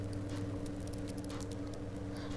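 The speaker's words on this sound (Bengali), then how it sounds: "এই পেঁয়াজটা দিয়ে বেরেস্তা বানাবো, তাই হাই হিটে কন্টিনিউ নেড়ে বেরেস্তা করে নিচ্ছি।" Chopped onion frying in ghee over high heat while being stirred, a constant sizzling patter with scattered crackles and scraping over a low steady hum, close and moderately quiet.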